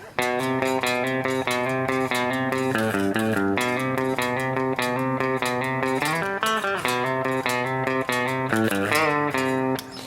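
An electric guitar plays the intro to a country song, a steady, busy riff of ringing notes with occasional bends, continuous and fairly loud for about ten seconds, no voices.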